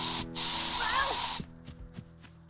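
A spray bottle in the Gas Station Simulator video game lets out one long, loud hissing spray lasting over a second, followed by a few soft clicks, with a voice briefly audible.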